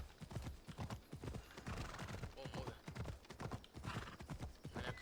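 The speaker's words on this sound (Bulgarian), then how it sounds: "Смога ли нагоре с коня?" Horse hooves gallop in Assassin's Creed Odyssey, a fast steady clip-clop close up with a whinny, while someone speaks briefly over it.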